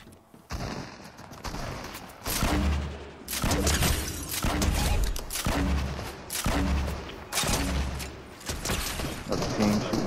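The other team's gunfire in Fortnite rattles in repeated bursts of loud shots close to the listener, and a player's voice talks over part of it.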